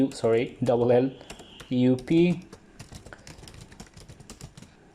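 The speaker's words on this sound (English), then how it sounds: "So let me type out GALLUP." Computer keyboard keys tapped in quick irregular bursts during data entry, close and light, under and after a person's speech at the start.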